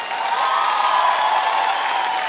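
Audience at a comedy league battle show in a castle applauds, a dense continuous wash of clapping mixed with crowd noise, loud and sustained, with a faint tonal hum running underneath.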